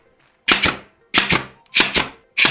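A pneumatic nail gun drives nails through mitered edge boards into plywood, four sharp double-clack shots spaced roughly evenly, close and loud with silence between.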